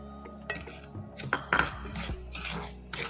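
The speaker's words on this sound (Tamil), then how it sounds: "அப்படியே நம்ம ரவையை வறுத்தெடுக்க போகிறோம்." Semolina (rava) being roasted over medium flame in a pan for rava kesari, with faint scraping and metallic clinks of a spoon against the pan, quiet and intermittent, no talking.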